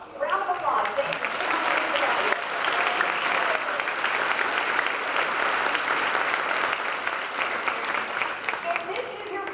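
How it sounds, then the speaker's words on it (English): An audience at a Special Olympics Hall of Fame luncheon claps steadily and loudly throughout, a dense, sustained round of applause that tapers slightly at the end. "A round of applause."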